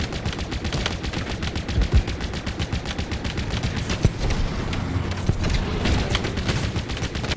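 Warthog turret machine gun in Halo Infinite firing in long, dense rapid bursts, loud and continuous throughout, with sharper individual shots standing out now and then.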